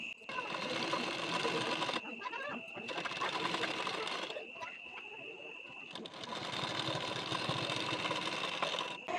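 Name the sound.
sewing machine stitching a blouse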